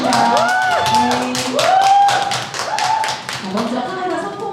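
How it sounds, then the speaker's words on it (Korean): People at a church seminar clap together in a short burst of sharp hand claps, with voices talking over the applause. "박수 한번 크게 쳐주실까요"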